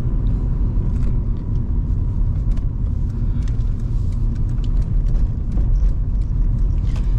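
Honda Civic EP2 driving at night, heard from inside as a steady, loud low engine and road rumble with continuous tyre noise and no talking.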